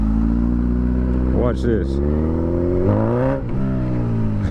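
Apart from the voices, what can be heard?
1000cc motorcycle throttle blip in first gear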